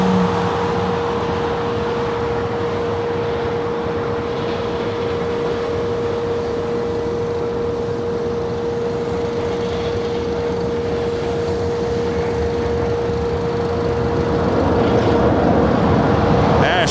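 An airliner in Coletta Air face-mask livery crosses over LAX, a steady roaring jet drone with a sustained tonal whine that builds slightly louder toward the end, heard from the ground at moderate distance.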